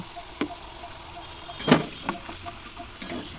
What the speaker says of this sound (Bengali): আমি যখন আলুগুলো ভাজছি